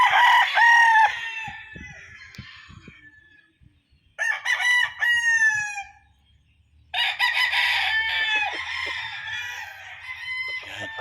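Several gamecock roosters of a Gull and Butcher bloodline crow in turn, loud and close, with three long drawn-out calls separated by short pauses and faint background clucks.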